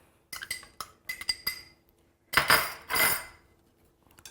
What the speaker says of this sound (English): Now the rest of the berries we're going to fold into the batter